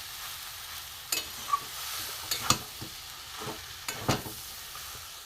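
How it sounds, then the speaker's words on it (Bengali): A prawn and vegetable sandwich filling fries quietly in a pan. A low hiss runs underneath a handful of spatula scrapes and soft knocks spaced irregularly through the clip. "পুরটা সুন্দর করে ভেজে নেবো তার জন্য।"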